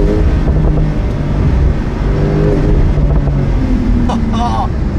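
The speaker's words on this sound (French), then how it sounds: "Alors qu'en sport... Ah, la sonorité n'est pas aussi sauvage que sur une GT2 RS." Porsche 992 Turbo S engine in sport mode, a loud steady drone with tonal rises and shifts under a voice talking over it, with wind buffeting throughout.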